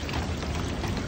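Food-colored water poured into a large batch of sewaiya at a busy Indian street food stall, a steady, loud splashing stream that fills the whole moment.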